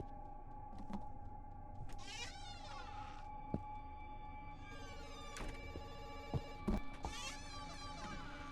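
A cell phone rings quietly in a domestic scene: a few faint electronic ring bursts with warbling tones, spaced apart over low room ambience with scattered clicks and knocks.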